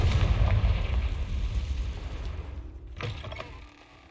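A Confringo fire spell bursts in the video game Hogwarts Legacy, a loud rumbling blast that swells at once and fades over several seconds, with a smaller crackling flare near the end.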